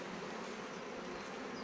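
Honeybees humming steadily at open hive frames during splitting work at an apiary, a continuous dense buzz with no voices.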